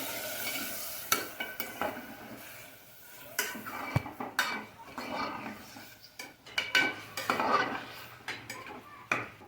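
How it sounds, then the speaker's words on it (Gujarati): A spoon stirs narsinga fish soup with spices in a metal pot, repeated scraping and clinks against the pot over a soft sizzle, close and moderately loud. "મિક્સ કરી લઈએ ચમચાથી."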